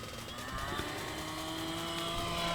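E-Flite Commander RC model airplane, repaired after a crash, flying overhead: a steady, fairly faint electric motor and propeller whine that drifts slightly in pitch, heard alone without talk.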